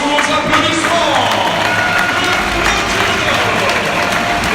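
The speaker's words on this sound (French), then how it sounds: "Sortie sous vos applaudissements." Basketball crowd in a French NM1 arena applauding steadily as a player leaves the court, a dense, continuous wash of clapping and crowd noise throughout.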